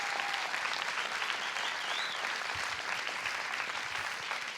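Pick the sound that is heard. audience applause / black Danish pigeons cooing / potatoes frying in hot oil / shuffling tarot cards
audience applause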